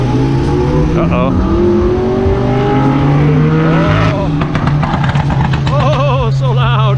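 Loud car engine at a Ferrari and Maserati car show, a strong steady engine drone with rising revs and passing vehicle sounds, close and continuous, with people talking over it.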